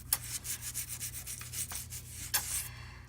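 Hard water stains scrubbed after a citric cleaning mix has soaked, giving quick, even back-and-forth scratchy strokes close up, with a louder swipe near the end and no speech.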